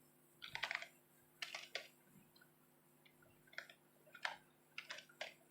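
Keys on a computer keyboard clatter in several short bursts of quick taps, separated by brief pauses, at a close, moderate level with no voices.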